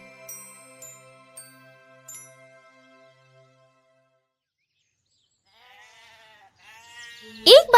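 Sheep bleat in a cartoon, a few wavering cries near the end that follow chiming tinkles and a stretch of quiet, with a voice speaking briefly in between.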